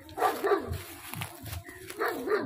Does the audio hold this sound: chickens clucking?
no